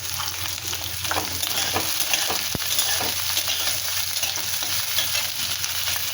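Onion, garlic, chili and garam masala sizzle and fry steadily in a pan while being stirred, a loud continuous hiss with occasional scraping and a single sharp tap.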